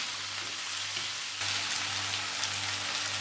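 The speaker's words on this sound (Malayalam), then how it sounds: "ഉരുളക്കിഴങ്ങ് ചേർത്തതിന് ശേഷം ഒരു 2-3 മിനിറ്റ് നന്നായിട്ട് വഴറ്റി കൊടുക്കണം" Diced potatoes sizzling in a hot pan while being sautéed for a green beans and potato stir fry, a steady close crackling hiss that swells slightly as they're stirred, with no voices.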